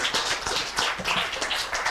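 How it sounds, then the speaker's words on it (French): A small audience at a public talk on heritage and housing claps for a speaker, sparse distinct hand claps in quick succession rather than a dense roar, moderately close. "Merci beaucoup, on vous applaudit."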